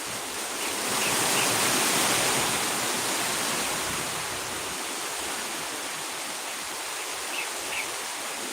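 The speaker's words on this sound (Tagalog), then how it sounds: "Babagsak na nga ang ulan. Ayan na nga po." Dense, steady hiss of heavy rain pouring down, swelling briefly near the start then holding constant, with faint bird chirps in the background.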